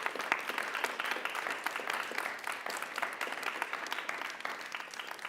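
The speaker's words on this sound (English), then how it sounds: "If we could give a round of applause to Justice Horn and Seth Hunter for joining us today." An audience claps for panelists after a discussion on protest and politics, a steady, fairly close round of applause with crisp individual claps throughout, no voices over it.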